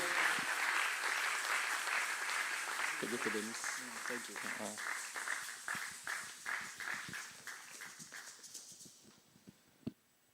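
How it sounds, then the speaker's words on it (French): Church congregation applauding the pastor: sustained crowd clapping that gradually thins into scattered claps and fades out, with a voice speaking over the start. "Est-ce que tu peux acclamer pour apprécier l'onction que le Seigneur a déposée dans la vie de son serviteur?"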